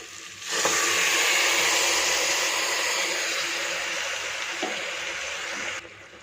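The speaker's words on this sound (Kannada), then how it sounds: "ಈಗ ಇದಕ್ಕೆ ರುಬ್ಬಿಟ್ಕೊಂಡಿರೋಂತ ಮಸಾಲೆನ ಸೇರಿಸ್ತಾ ಇದ್ದೀನಿ" Ground masala paste added to sprouted horsegram already fried in hot oil in a pan, giving a loud, steady broadband sizzle that fills nearly the whole clip and then cuts off near the end.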